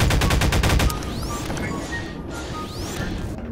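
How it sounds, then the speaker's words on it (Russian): Rapid gunfire from Garry's Mod aimed at an animatronic: a fast, loud burst of automatic shots in the first second, then a few scattered impacts and whooshes in the game world. "стреляй по нему отсюда!"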